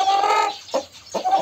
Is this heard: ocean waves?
no